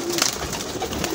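Lahori pigeons in Sialkot, Pakistan, coo softly in a brief low burble against steady background noise, with no talking.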